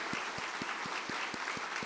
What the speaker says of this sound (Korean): 우리 박수로 축하합시다